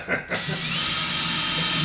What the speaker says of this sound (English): And you start drilling.